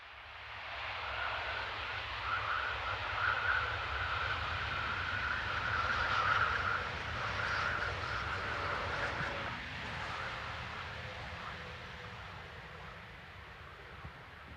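A passenger train from Saarbrücken to Graz, pushed by locomotive 101.141 at the rear, rumbles past at a distance. A low, steady drone swells slightly in the middle, with faint higher whine and wheel noise, and no voices.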